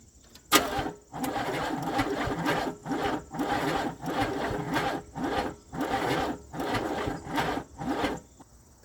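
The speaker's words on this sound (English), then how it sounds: "Let's go jumpstart this guy and get it moved." Chevrolet S10 pickup engine cranking after a jumpstart: a sharp click, then repeated rhythmic starter grinding bursts about once a second, close and fairly loud, without the engine clearly catching.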